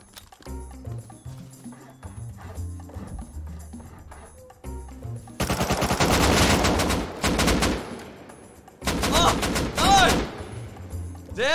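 Gunfire in the survival game Rust, with loud broadband bursts of rapid shots in two volleys after a quieter stretch of lower, steady game sound.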